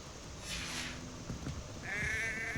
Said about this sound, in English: Oh, it's a goat. It's a goat actually. It's bleating.